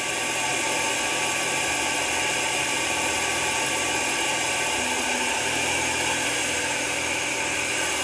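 An Atomstack X20 Pro 130W quad-laser engraving and cutting machine runs with its built-in air assist, producing a steady, loud, continuous whooshing hum with a mechanical drone underneath, unbroken from start to finish.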